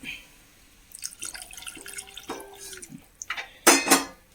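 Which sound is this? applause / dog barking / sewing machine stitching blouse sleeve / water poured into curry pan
water poured into curry pan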